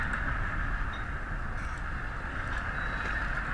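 A locomotive in the train simulator Symulator Transportu Kolejowego, a steady, even drone and hum of the engine running without a break, with no talk over it.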